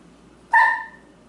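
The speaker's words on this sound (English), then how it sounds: "The little bears looked friendly enough, but a big dog barked at Andy." A big dog gives one short, loud bark against an otherwise quiet background.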